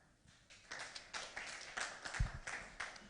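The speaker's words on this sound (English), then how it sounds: "they all deserve a round of applause" Scattered, fairly quiet applause from an audience at a golf club's special meeting and committee election greets the new committee team, a few seconds of soft, uneven clapping in a room.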